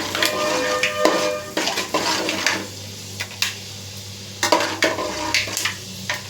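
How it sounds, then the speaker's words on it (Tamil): Mustard seeds crackle and pop in hot oil while tempering, with sharp irregular spits over a steady sizzle and a few clinks of a utensil against the pan. "கடுகு நல்லா பொரியுது பாருங்கள்."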